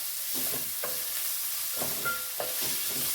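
Chopped onion for kanda poha sautés softly in a pan, a steady close sizzle and hiss broken by a few short scraping stirs of the spatula, with no talking.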